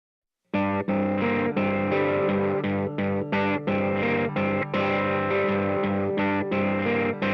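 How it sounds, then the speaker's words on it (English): Electric guitar run through distortion, chorus and other effects plays a song, starting after a brief silence with sustained, layered chords and short rhythmic breaks, loud and steady with a wide stereo feel. "Nice guitar tones to start off."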